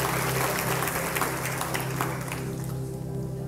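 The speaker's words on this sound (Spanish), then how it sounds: "Denle un fuerte aplauso al Señor." Church congregation applauding during a Spanish-language worship service, a steady wash of clapping that holds for a few seconds and then eases slightly, with organ or keyboard tones sustained underneath.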